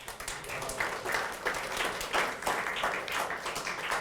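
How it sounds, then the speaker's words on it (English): Fairly quiet audience applause with a rapid, dense patter of many hands clapping, holding an even level for a few seconds. "A round of applause."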